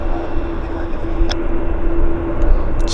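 A CRJ regional jet taxis past on the ground at Vancouver airport, a steady low engine rumble with a faint whine running throughout, fairly close and continuous.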